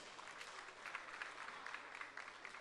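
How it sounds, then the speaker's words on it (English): A round of applause from the audience at an economic and investment forum in Bayelsa, dense, even clapping held steady for a few seconds and heard faintly from a distance. "Shall we please give him a big round of applause?"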